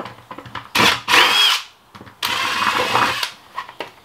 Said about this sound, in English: Need a 3/8 drill bit.